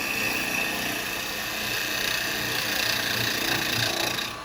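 A carbide spindle gouge cuts wood on a spinning lathe, a steady, loud scraping hiss that runs unbroken for several seconds before easing off at the end.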